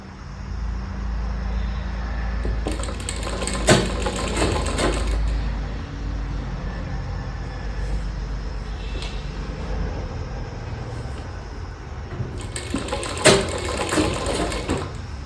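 A sewing machine stitches a gathered sleeve design in short bursts, with quieter handling of fabric between runs and no talking.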